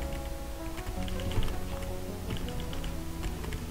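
Rapid, continuous clicking of fingers typing on a computer keyboard, close by, over a background of game music and hum.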